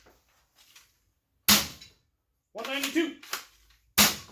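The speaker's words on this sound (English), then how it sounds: "5 more shots of the original ammo." A Ceda Model S airsoft gun fires sharp, isolated shots, a couple of close cracks spaced apart, with someone speaking briefly between them.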